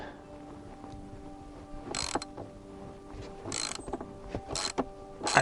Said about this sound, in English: I'll just wind these 2 nuts back a little bit